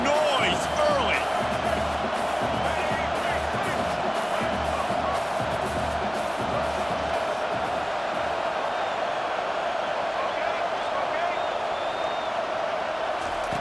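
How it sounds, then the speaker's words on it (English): Stadium crowd noise from the EA Sports College Football 25 video game: a dense, steady roar of many voices filling the clip from start to end, loud and unbroken, with occasional cheers rising above it. "This crowd bringing the energy and noise early."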